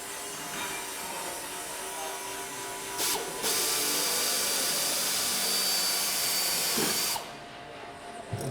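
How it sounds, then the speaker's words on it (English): A power drill bores a hole in Spitfire aircraft skin, a steady high whirring hiss that jumps louder around midway, holds for several seconds, then cuts off, with no talking. "You drill a hole in the centre."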